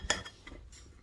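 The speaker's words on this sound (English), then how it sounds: "Next, we're just going to stir this up" A utensil clinks and scrapes through a breakfast meal-prep mixture in a bowl, with one sharp metallic tap followed by a few softer stirring scrapes, close and brief.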